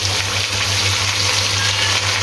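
Chicken pulao frying (bhunai) in a pot, a steady, dense sizzle and crackle that holds evenly throughout with a low hum beneath, close and loud, no talking.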